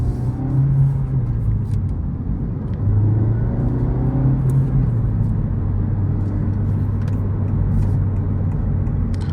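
An FL5 Honda Civic Type R with a manual gearbox drives along, its engine a steady, loud interior rumble with gentle rises in pitch as it pulls through the gears.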